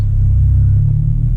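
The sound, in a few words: Ford Mustang engine rumble with tuner and aftermarket exhaust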